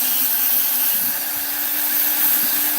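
Dremel rotary tool fitted with a fine detail burr carving a wooden gnome house, giving a steady, close, high-pitched whirring drone with a faint rubbing grind, continuous and without voices.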